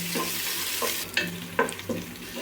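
Ginger garlic paste frying in a pan, a soft continuous sizzle broken by a few light clinks and scrapes of a stirring spoon, close and fairly quiet with no talk.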